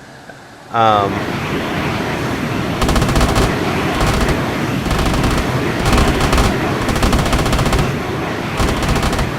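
Rapid, sustained bursts of heavy automatic cannon fire from the TO-199 Neophron jet in Arma 3, with a low, lower-RPM rumbling roar, repeating several times over a constant loud background.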